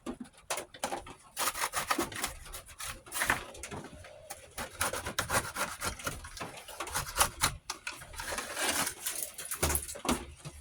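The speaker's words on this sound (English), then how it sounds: "I scraped all my boards clean like this." A Verizon LG phone circuit board is scraped clean of micro components by hand with a metal tool, giving busy, close, irregular scratching and rasping strokes with quick clicks and brief pauses.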